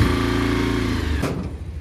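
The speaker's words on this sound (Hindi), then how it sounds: "आज हम लोग बाइक पे जाएंगे।" A motorcycle engine runs close by with a steady harmonic buzz and hum, then drops off sharply near the end as the sound fades, no voices heard.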